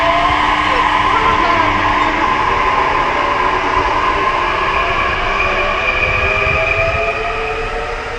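A train in Japan rolls past close by, a loud steady rumble of wheels and wagons with high metallic squeal, continuous throughout while people talk faintly beneath it.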